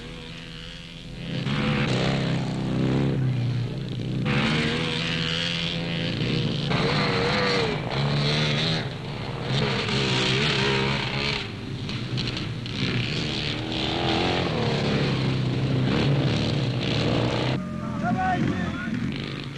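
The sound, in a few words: racing sidecar motorcycles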